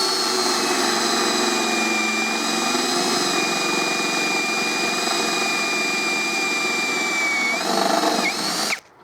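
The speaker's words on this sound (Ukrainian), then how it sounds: "Зараз попробую просвердліть в іншому місті, щоб був режим велика швидкість, режим свердління." A PROCRAFT PA 21 Li cordless drill runs in high-speed drilling mode, holding a steady, loud, high-pitched whine close by for several seconds before its pitch dips as it finishes and cuts off abruptly; no voices.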